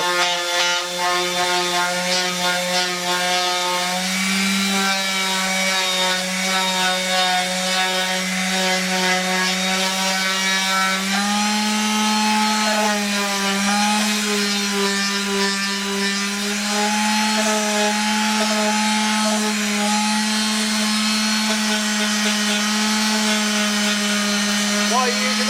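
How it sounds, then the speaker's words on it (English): Powered sander worked along a new wooden neck for a Fender Acoustasonic Telecaster, giving a continuous loud buzzing whine with a steady pitch that shifts slightly midway. "Why are you using that sander? I could use the other one. This has got 100 grit."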